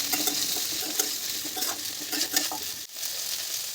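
Mixed vegetables with green chilli and radhuni seeds fry in mustard oil, a dense, close sizzle broken by stirring scrapes and a brief dip near the end, with no voices.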